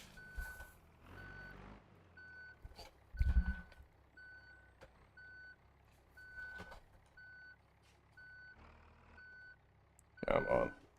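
A truck in the BeamNG video game reverses with a regular series of evenly spaced electronic beeps, faint and steady, broken by occasional louder thumps and a hiss near the end.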